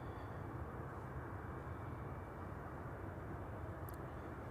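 Aircraft passing at Manchester Airport, a distant low rumbling engine drone that holds steady and fairly faint throughout, with no talking.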